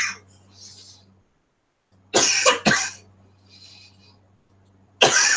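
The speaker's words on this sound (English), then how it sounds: "I almost made it through a show without coughing my head off." Several loud, harsh coughs from a streamer on a live talk show, a double burst in the middle and another at the end, with faint breathing and quiet background hum between them.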